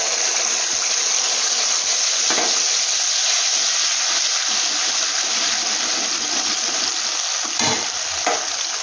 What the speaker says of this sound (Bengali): সামান্য একটু ভাজা ভাজা করে নেব।